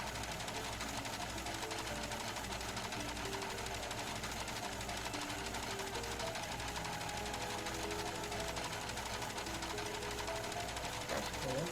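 A sewing machine runs steadily, its rapid needle chatter continuous and close for about twelve seconds, with a faint voice underneath.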